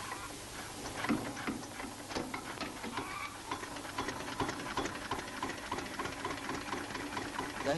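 A 1950s tractor engine with sooty injection nozzles, running with a steady, rapid chugging and knocking rhythm close by, continuous throughout.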